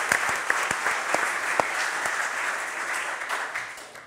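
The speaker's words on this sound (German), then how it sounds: "Ja, Applaus für den Kollegen." A studio audience at a sports talk show claps in a dense, even burst of applause that stays loud for several seconds, then tapers slightly at the end.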